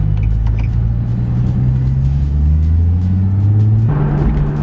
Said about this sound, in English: Got the Z all warmed up already